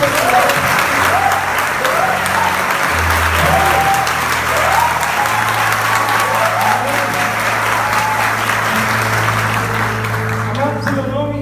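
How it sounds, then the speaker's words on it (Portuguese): A congregation at a Catholic sermon claps loudly and steadily, with cheering voices above it and sustained music tones running underneath the whole time. "eu acho que é a nossa obrigação saudar o Mestre com uma salva de palmas"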